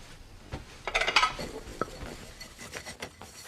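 Dishes and utensils clatter in a domestic scene, with a cluster of clinks and scrapes in the middle and lighter rattling before and after, fairly quiet and with no speech over it.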